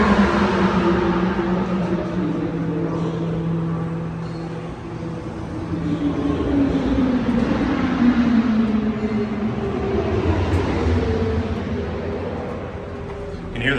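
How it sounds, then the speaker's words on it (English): Race cars roaring around the Indianapolis Motor Speedway, heard from indoors near an elevator as a steady engine drone with rising and falling pitch sweeps as the cars pass, with people talking in the foreground. "You can hear the race cars going."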